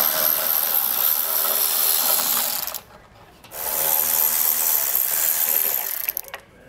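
A ratchet wrench spins rapidly as 8-millimeter bolts are removed from a plastic fascia support structure on a 2021 vehicle during a trailer hitch install. Two close bursts of fast clicking are split by a short pause.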